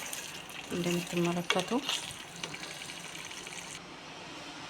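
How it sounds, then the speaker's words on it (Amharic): Water is poured into a pot of chicken being cooked, making a brief gushing, splashing sound while someone speaks over it. "አሁን ውሃ እከልሳለሁ ማለት ነው።"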